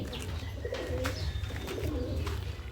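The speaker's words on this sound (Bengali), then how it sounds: "তোমরা দেখুন এখানে পায়রাগুলো সব খাবার খাচ্ছে" Pigeons coo steadily in a loft while feeding, a continuous low murmur of overlapping calls close by with light chirps mixed in and no talking.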